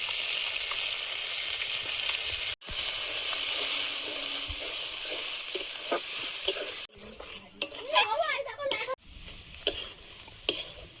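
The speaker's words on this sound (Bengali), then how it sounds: "এবার তেলে একটু নেড়ে নেবো।" Steady hot-oil sizzling as ground bottle gourd leaves are stirred with scraping strokes, then quieter stretches of spatula scraping against a pan with brief clinks.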